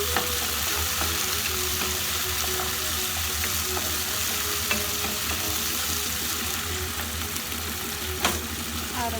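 Ground meat sautés with tomato in hot oil in a frying pan for a Filipino meat omelette, giving a steady loud sizzle and crackle with occasional stirring scrapes and spatters throughout.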